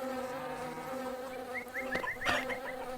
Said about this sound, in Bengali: আর মৌমাছি তাড়াইতেছি।